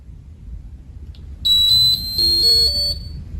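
An infusion pump powering on gives an electronic beep, followed by a short rising series of clear tones, loud and close against a quiet background.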